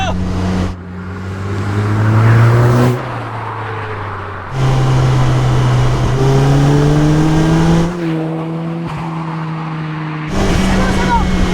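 A road-legal race car accelerates hard through several gears, its engine note climbing and dropping with each shift, loud and close with the strained roar of an interior or onboard perspective.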